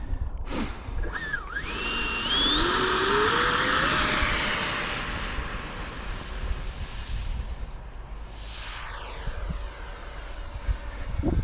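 A QT Models T45 Goshawk 6S EDF model jet flies on its maiden flight, its electric ducted fan whine rising steadily in pitch to a sustained high scream, then fading as it passes away into the distance.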